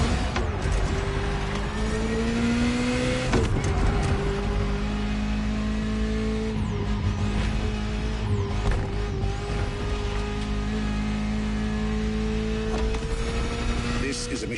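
Ferrari sports car driving in the video game The Crew Motorfest, a steady engine tone with gear changes and road noise running under continuous narration.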